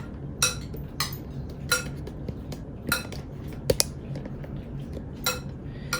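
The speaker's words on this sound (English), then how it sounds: "I'm gonna give you this spoon to stir that one around" A spoon clinks and scrapes against a dish while stirring a cucumber dish, with sharp isolated taps spaced about a second apart over a low steady background hum.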